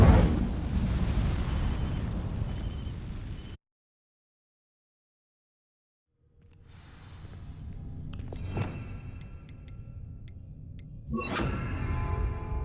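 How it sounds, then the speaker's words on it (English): An Incendio fire spell in Hogwarts Legacy bursts into flame against dry vines, with a loud roaring whoosh, then a sudden silence, then a fiery crackling swell with sharp pops that rises again near the end. "These dry vines are one spark away from becoming kindling. Incendio!"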